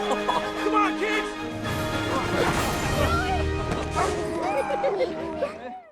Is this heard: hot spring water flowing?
no